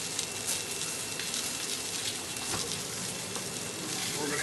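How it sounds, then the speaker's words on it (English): Braised beef with red wine, mushrooms and onions simmers steadily in a pot, a soft continuous bubbling hiss that stays even and close throughout, faint and without talk. "Now we've got a good simmer going here."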